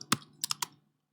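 Four quick, close keyboard clicks in an uneven run, a short burst of typing on a computer keyboard in a quiet room.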